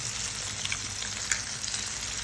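Egg sizzling as it hits hot pasta sauce in a frying pan, a steady close crackle and hiss throughout with one brief louder pop near the end, no talking.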